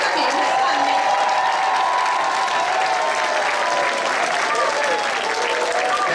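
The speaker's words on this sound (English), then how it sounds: "I want a round of applause to Senator Forry." A crowd at a Boston event with the mayor and a state senator applauds and cheers loudly and continuously, the dense clapping holding steady throughout.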